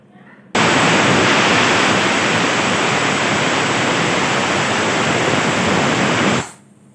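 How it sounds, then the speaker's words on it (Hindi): A loud, steady hiss of escaping steam from a pressure cooker whistle bursts on suddenly, holds for about six seconds, then cuts off. "एक सीटी आ गई है।"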